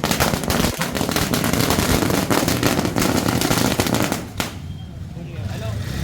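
Dense, rapid crackling bursts of firecrackers going off continuously at a political victory celebration, loud and close, then cutting out abruptly into quieter ambient noise near the end.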